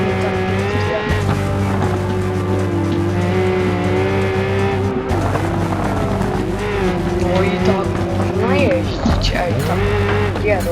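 A car drifting in the BeamNG.drive driving game, its engine droning steadily with whining, shifting tones and tire squeal throughout, loud and continuous.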